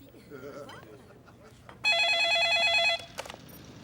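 A telephone rings once in a loud electronic burst of about a second, with a shorter chirp after it, set between quiet speech and background murmur.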